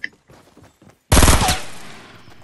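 Gunfire from a video game on a TV bursts out loud after a second of quiet background chatter, a sharp volley of shots that rings and decays over the next second and a half.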